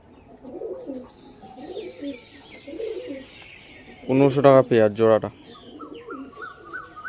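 A pair of domestic pigeons coo near the microphone in soft, repeated low calls, with faint chirps in the background, while someone talks over part of it.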